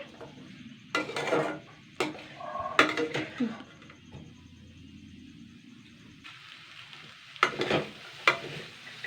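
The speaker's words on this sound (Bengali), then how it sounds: "এইভাবে আমি একটুখানি হালকা একটু নাড়াচাড়া করে নেবো ভাজা মতন করে নেবো" Chopped banana stem sizzles in a hot pan as a spoon scrapes and stirs it in a few short bursts, with a steady frying hiss underneath.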